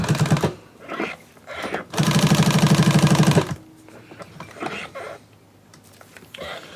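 Domestic sewing machine stitching around an embroidered patch, skirting its lettering: a loud, fast, steady needle run of about a second and a half, framed by shorter bursts and quieter handling sounds.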